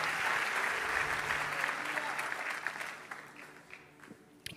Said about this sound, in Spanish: Denle un fuerte aplauso al Señor